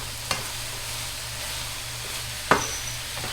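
Enchilada filling with chopped jalapeno sizzling in a pan, a steady soft fry with two sharp utensil scrapes of stirring, one early and one near the end.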